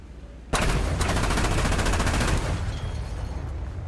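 Gunfire in a military vehicle combat video game, a sudden burst of rapid automatic fire that kicks in loudly and continues for a couple of seconds, then fades into a dense, rumbling battle wash.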